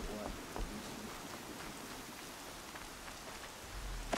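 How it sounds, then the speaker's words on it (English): Rain pours down in the video game Horizon Zero Dawn, a continuous close wash of drops spattering on surfaces, with faint rumbles and a few soft knocks mixed in. "It's heavy with rain."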